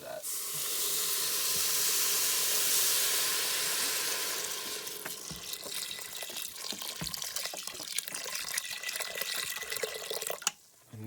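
Water pours steadily from a tap into a pot of split peas with a bright rushing hiss, then thins and trickles before stopping near the end.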